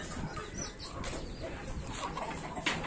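Desi chickens and small chicks cluck together on a farm in a dense, continuous chorus, with a few sharper calls near the end.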